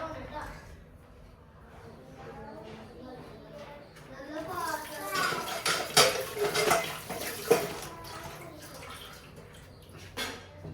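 Dishes and utensils being washed under running water at a kitchen sink, with clinking of cutlery and pots and a few sharper knocks amid the splashing, loud and close in the middle stretch.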